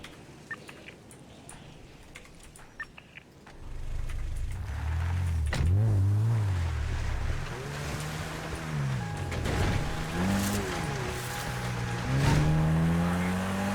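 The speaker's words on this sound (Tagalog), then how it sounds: "ba't di nyo ba maririnig yung sasakyan?" A car approaches and passes outdoors, its engine and tire rumble rising from quiet to a loud, sustained drone with shifting pitch, then easing slightly as it moves on.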